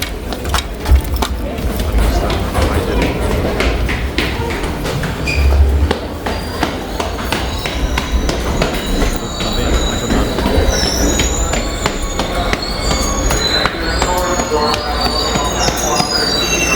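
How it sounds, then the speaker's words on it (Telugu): A crowded metro train pulls away from the platform after its doors shut, a steady loud rumble of wheels and carriage with occasional high wheel squeal, running continuously throughout with faint voices mixed underneath. "కరెక్ట్గా మేము ఎక్కాము, డోర్ అలా పడింది, ట్రైన్ అయితే బయలుదేరింది"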